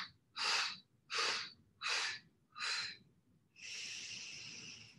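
Four strong, rhythmic breaths of deep yoga breathing, each a forceful, airy burst about half a second long with short pauses between, then a longer steady exhale. The breaths are close and clear with no talking.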